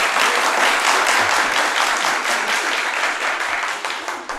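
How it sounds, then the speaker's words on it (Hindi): A podcast studio audience breaks into steady, dense applause that carries loud and close throughout, then thins slightly toward the end, with no talk over it. "अगर ये तालियां ना बजती तो मुझे शायद फिर भी उम्मीद होती थोड़ी सी"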